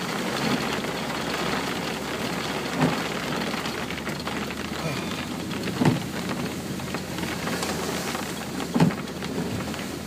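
Steady rain begins to fall in Çorlu, a dense even hiss of drops on surfaces with a few soft louder thumps and a faint low engine hum beneath.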